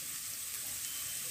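Spices fry in a pan for a lemon chicken dish, a faint, even sizzle over a short stretch with no voices.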